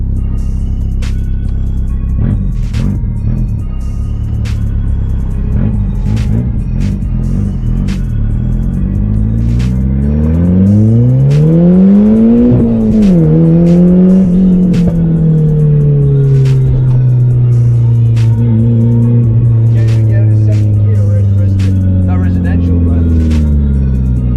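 A Nissan Pulsar GTIR rally car with individual throttle bodies idles loudly and close, then revs up through a rising, wavering engine note that falls back and settles, with light clicks throughout.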